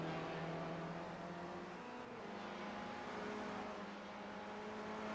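Race car engine on a flying lap around the Detroit Belle Isle circuit in a sim racing video game, droning steadily at a fairly even pitch with small shifts as it accelerates, with no voices.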